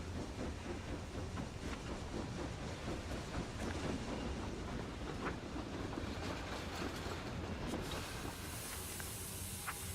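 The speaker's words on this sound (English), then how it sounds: "Okay, here's a train." A train rolls past in the video game Book of Travels, a steady broadband rumble with faint clicking and hiss lasting throughout, even and continuous without any speech.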